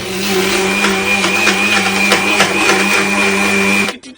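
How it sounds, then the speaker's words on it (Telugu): A mixer grinder blending a shake with ice whirs loudly and steadily for nearly four seconds with a high motor whine, then cuts off abruptly. "సరే మిక్సీ కొట్టేద్దాం"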